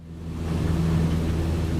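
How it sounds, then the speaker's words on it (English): Cessna 152 airframe buffeting near a stall in Microsoft Flight Simulator, a steady low droning rumble with broadband roar that swells slightly and holds, with no voices over it. "I hear the airplane buffeting. It must mean we're getting close to a stall."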